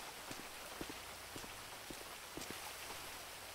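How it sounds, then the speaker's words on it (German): Light rain falling on a surface, a faint steady patter with scattered distinct drops ticking irregularly, quiet and unaccompanied by voices. "hört der Regen so langsam auf"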